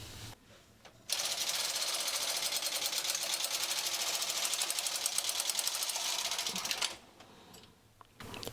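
Close and loud, a Brother 260 knitting machine knits a single row of waste yarn at lowest tension, a fast rattling carriage clatter lasting about six seconds between quieter moments.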